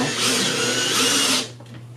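A power driver runs steadily while it drives a screw into a wooden bed slat, whirring close and loud for about a second and a half before it stops abruptly.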